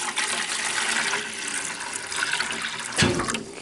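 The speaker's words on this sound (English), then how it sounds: "Let's just pour that water in there." Hot water pours from a kettle into a gun-barrel cleaning trough, a steady close splashing stream with a heavier gush toward the end.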